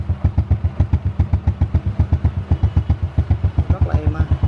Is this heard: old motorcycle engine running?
yes